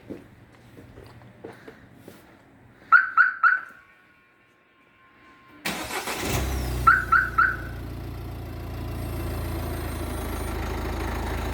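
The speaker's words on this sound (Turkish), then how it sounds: "Tamam oradayken uzaktan çalıştırmayı da deneyebilirsin" A 2012 Peugeot 5008 is started by remote: quick triple chirps of the alarm and lock signal, a short quiet gap, then the engine cranks and catches into a steady idle with another set of chirps over it, heard nearby.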